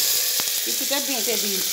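Five-spice and chili temper in hot oil, a loud, bright continuous sizzle that fills the short moment while a voice speaks briefly over it.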